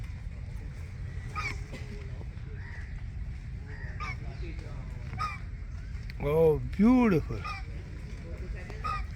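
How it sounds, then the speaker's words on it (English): Ducks on a very cold morning let out a couple of loud, nasal quacks close by after a stretch of quieter calling, with a person talking softly in the background. "And of course the ducks."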